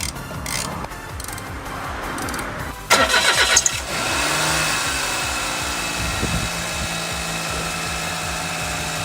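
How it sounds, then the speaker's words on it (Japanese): A Suzuki Wagon R (MH21S) engine with over 190,000 km cranks with a brief rough burst, then catches and settles into a steady idle with a continuous hum and whine. "これで今エンジンをかけました。"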